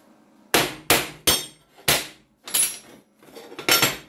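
A metal cold chisel is struck with a hammer to split a part apart, about seven sharp ringing blows spaced irregularly, close and loud with quiet gaps between them.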